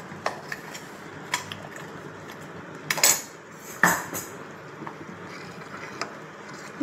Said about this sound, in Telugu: ఇంకొకసారి నీట్గా మిక్స్ చేసుకున్నామండి